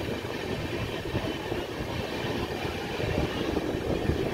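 Vikramshila Express train 12368 running, a steady loud rumble of wheels and carriage noise heard from onboard, with continuous broadband roar and faint rhythmic rattling throughout.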